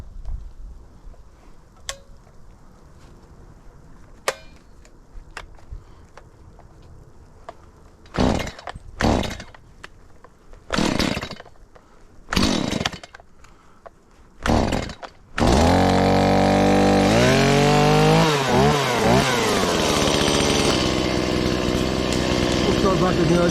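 Chainsaw started outdoors: a quiet lead-in with a few clicks, then five sharp pull-cord yanks that sputter briefly, before the engine catches and roars loud and close, revving up and down.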